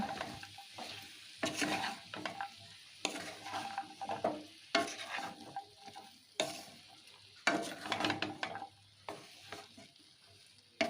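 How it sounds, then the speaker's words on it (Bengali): Malabar spinach stems sautéed together with other ingredients in a pan, close and distinct: a soft sizzle under a run of rhythmic scraping stir strokes that come in bursts every second or so, with no voices. "পুঁই মিটুলিগুলো দিয়ে একসাথে ভালো করে সমস্ত উপকরণগুলো কষিয়ে নেবো"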